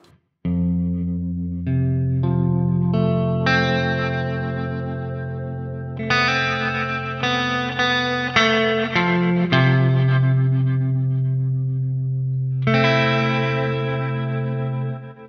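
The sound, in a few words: non-linear reverb into plate reverb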